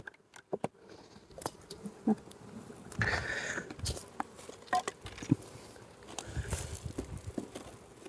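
Honey bees buzzing around an open hive, with intermittent close buzzes as a bee bounces against a head, along with scattered patter and rustling of handling.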